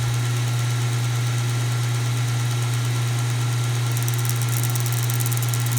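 A Kalamazoo belt sander runs with a steady, loud motor hum and whirring belt while a knife is held against the belt. The grinding hiss brightens and roughens near the end as contact changes.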